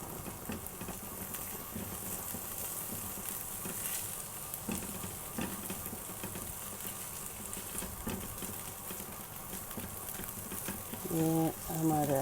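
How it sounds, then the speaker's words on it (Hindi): Garlic and ginger fry in a pan on raised heat for samosa filling, making a continuous soft sizzle with faint stirring scrapes. Near the end a brief voice is heard over it. "ये हमारा अब जो लहसुन अदरक है वो भी ऑलमोस्ट फ्राई हो चुका है।"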